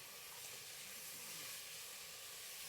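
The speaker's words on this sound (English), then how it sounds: "Hear that with the sizzle rice." Rice sizzling in a hot oiled pot on the stove, a soft, steady hiss with no other sounds over it.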